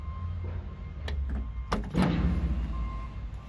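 A car door on a jacked-up 4x4 thuds and rattles as someone climbs in, a few sharp knocks followed by a louder slam and shuffling, close by over a steady low engine-like rumble.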